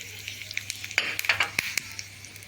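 Curry leaves crackle and sizzle in hot oil as a tadka is tempered, with sharp popping bursts over a steady close-up hiss and a faint low hum.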